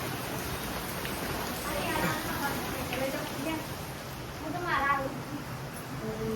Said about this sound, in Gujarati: બહાર તો ધમચક્કર વરસાદ ચાલુ